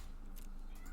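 A single short cat meow from the Magic: The Gathering Arena video game, a brief game sound effect heard over faint background noise.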